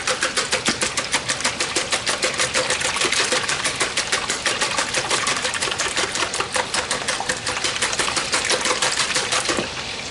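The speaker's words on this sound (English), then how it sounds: "First I'm going to whisk up my eggs." Eggs are beaten with a whisk in a bowl, a fast, even, rhythmic clatter that carries on loud and close for about ten seconds with no talking.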